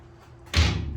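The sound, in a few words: old jail cell door being closed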